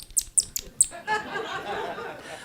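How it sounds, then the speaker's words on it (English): An angry rat gives several sharp, high squeaks at the start, then a longer stretch of harsh, raspy chattering hiss, close and fairly loud. "This is the sound of an angry rat."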